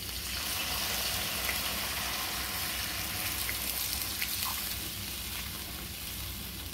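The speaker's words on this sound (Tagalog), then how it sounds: "Lagay tayo ng tubig." Water is poured into a hot pan of oil, onion, garlic and ginger for beef horfun gravy, making a steady, loud sizzling hiss that holds for several seconds with no voices.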